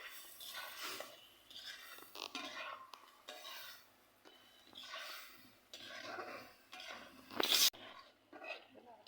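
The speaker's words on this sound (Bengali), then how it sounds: "দিয়ে আমরা মাছটাকে সুন্দর করে মশলা দিয়ে কষিয়ে নিব।" Fish being cooked down with spices in a pan, heard as soft, intermittent scraping and stirring with a spatula and occasional metal clinks, quiet and close, including one sharp clatter partway through.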